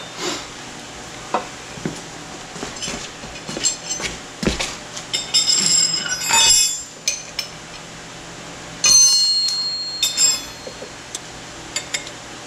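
Metal wrenches, including 17 mm and 11/16-inch sizes, clink and clatter in a garage during a QuickJack lift install. Loud, irregular jangles and knocks come close up in uneven clusters, with no speech.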